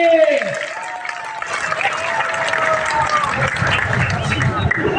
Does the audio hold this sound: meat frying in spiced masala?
no